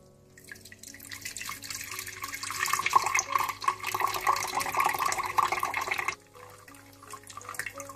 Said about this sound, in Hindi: ग्राइंड करने के बाद आप इसे जग में छान कर डाल दें।